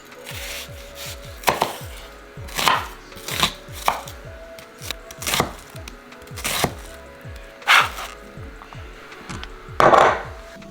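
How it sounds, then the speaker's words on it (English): A knife slicing jalapeno on a wooden cutting board for shrimp and crab ceviche, sounding as a series of close, crisp chops and thuds spaced about a second apart, with scraping between strokes. "So we're gonna hurry up and cut this"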